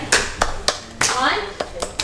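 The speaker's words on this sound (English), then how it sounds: "And everybody clap" A few people clapping inside a church, sparse, uneven claps roughly every third of a second, close and fairly loud, with a brief voice between them.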